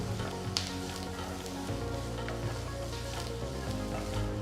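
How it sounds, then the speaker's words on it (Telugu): Three medium-size finely chopped onions frying in three teaspoons of oil in a pan, with a steady, dense sizzle throughout and a brief sharper crackle near the start. "ఇందులో చిన్నగా తరిగిన మూడు మీడియం సైజ్ ఉల్లిపాయలు వేసి వేయించాలి"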